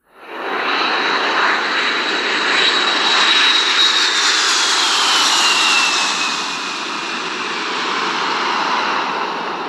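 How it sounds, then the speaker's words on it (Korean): An airplane sound effect roars steadily overhead, a loud sustained engine drone with a high whine that slowly shifts in pitch as it passes. "키네마스터에서 비행기가 상공을 날아가는 애니메이션을 만드는 방법에 대한 설명을 드리겠습니다."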